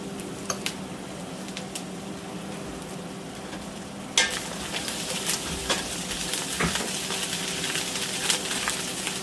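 Crushed ginger and garlic stir-frying in a very hot heavy-bottomed pan, a steady sizzle with scattered clinks and scrapes of stirring that grows louder and busier partway through, no talking.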